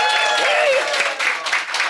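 Audience applause for panel speakers at a realtors' sponsor presentation and panel discussion, a short burst of crowd clapping under a speaking voice.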